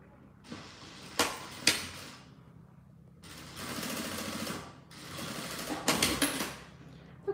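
A sewing machine stitching a squeeze pouch, running in several bursts of rapid mechanical whirring separated by pauses and a few sharp clicks, fairly faint, with no talk.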